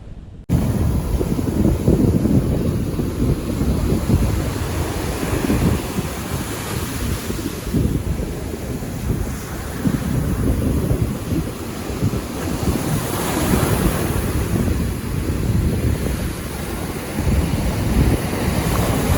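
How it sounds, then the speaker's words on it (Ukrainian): Heavy Black Sea surf pounds continuously at Chornomorsk while strong wind buffets the microphone, a loud, unbroken roar of very high waves and gusts with no voices. "дуже високі хвилі"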